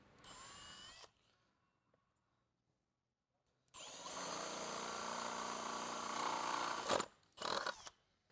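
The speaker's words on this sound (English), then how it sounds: "Holding the sensor assembly in position, also drill out the bottom holes." A power drill whirs steadily for about three seconds after a brief earlier burst, drilling holes in plastic for a sensor assembly on a John Deere R 4030, then stops and gives two short final spurts; loud and close.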